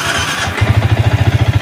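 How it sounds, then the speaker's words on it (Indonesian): A Yamaha All New Vixion motorcycle engine cranks and catches, settling into a rapid, loud, steady idle thump close by, with no talk over it. "Waduh, suara mesinnya parah nih, guys."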